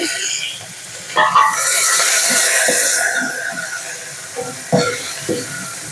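Asafoetida and curry leaves hitting hot oil for pepper rasam, setting off a loud burst of crackling sizzle that rises and then eases, with sharp spatters close by.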